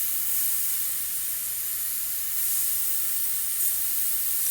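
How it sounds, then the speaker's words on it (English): An airbrush sprays thick Createx paint thinned at 3:1, giving a steady, faint airy hiss that sputters slightly as it struggles to spray evenly. "Airbrush is not wanting to spray correctly."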